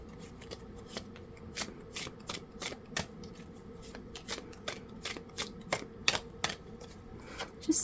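Rapid, crisp tarot card shuffling close by, a steady run of sharp riffling clicks and snaps with brief pauses between bursts, no voices.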